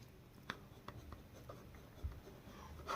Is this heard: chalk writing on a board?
yes